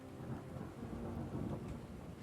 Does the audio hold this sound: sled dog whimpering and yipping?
no